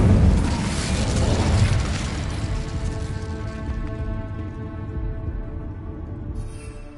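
The Incendio fire spell cast in Hogwarts Legacy, a loud burst of roaring flame that hits at once and then slowly fades over several seconds under lingering game tones.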